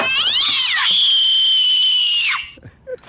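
A toy cat inside a geocache lets out a loud, shrill electronic meow when opened, rising then holding steady for about two seconds before dropping away, followed by faint rustling.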